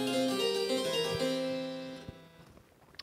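Harpsichord voice on a Yamaha NU1X hybrid piano sounds a plucked, bright chord and a few notes that decay over about two seconds, played alone with no talking.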